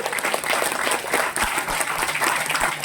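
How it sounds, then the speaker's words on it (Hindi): Audience applause at a company seminar in Gwalior, a dense, energetic burst of many people clapping together, loud and sustained across the whole stretch, with no talking over it. "ताली होनी चाहिए, जोरदार जो कंपनी की होनी चाहिए"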